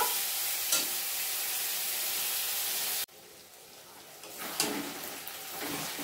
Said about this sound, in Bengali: দেখো চিকেনটা কিন্তু ভাজা হয়ে গেল।